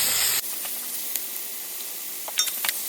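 Onions tossed into hot oil set off a loud burst of sizzling, then a steady hiss with a few stirring scrapes near the end, close by.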